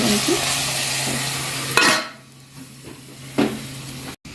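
Mutton frying in a pan for Andhra-style gongura mutton curry, a loud dense sizzle that drops sharply partway through to a softer, quieter bubbling hiss with a brief clatter, close up without voices.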